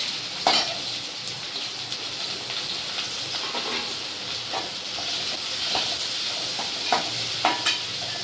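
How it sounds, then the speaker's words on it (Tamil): Onions crackle and hiss in hot oil in a close, steady frying sound, with occasional sharp ticks and spatters across the whole stretch. "எண்ணெய் காஞ்சதும் வெங்காயம் போட்டுக்கலாம்."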